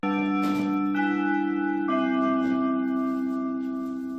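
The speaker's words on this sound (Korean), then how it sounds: "익숙한 종소리로 수업이 시작됩니다" A bell rings to open an udon-making class at a noodle school in Takamatsu, giving clear, sustained metallic tones with a few fresh strikes that layer and ring out, close and loud, with no talking.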